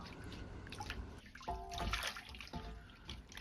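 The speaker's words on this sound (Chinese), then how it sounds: "接着把西芹先放入水中清洗掉泥沙。" Celery stalks are swished and rinsed in a basin of water to loosen mud and grit, producing quiet sloshing and dripping splashes close by.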